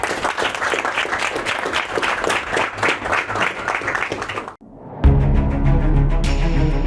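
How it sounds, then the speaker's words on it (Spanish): An audience at a talk on liberalism breaks into loud, dense clapping for several seconds that drops away abruptly, followed by a sustained tonal sound. "Creo que merece un aplauso, por favor"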